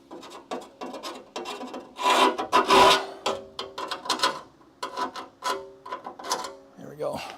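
Hand file rasping a burr off a metal part of a Charger crew-cab build: a series of short, uneven scraping strokes, close and fairly loud, in quick bursts with brief pauses between them.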